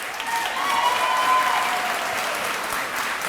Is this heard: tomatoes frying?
no